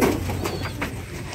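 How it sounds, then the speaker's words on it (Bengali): Domestic pigeons on a farm make soft, low cooing close by, with a brief flutter of wings, in a short stretch with no talking. "আজকে দেখাবো কবুতরের বাচ্চা।"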